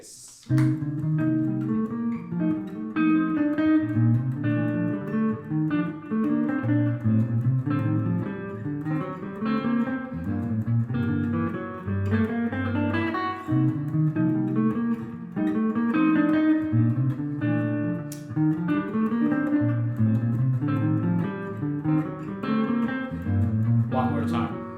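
Chord scales such as Mixolydian, Lydian, Locrian, Phrygian major and melodic minor played as melodic lines on an instrument, a steady stream of fast, clearly articulated notes running up and down for over twenty seconds, with no talk.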